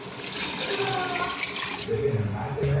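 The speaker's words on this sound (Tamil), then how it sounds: "தண்ணி ஊற்றிக்கலாம்." Water poured into a pot of rice during home vegetarian cooking, a steady close splashing stream running for the whole stretch with no break.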